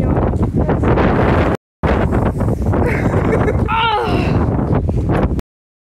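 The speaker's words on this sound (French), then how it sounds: "Regardez tout le vent qu'il y a" Strong, cold wind buffets the microphone outdoors in a loud, continuous roar with gusty rustling, cutting out briefly near the start and again at the end.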